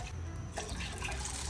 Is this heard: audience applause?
no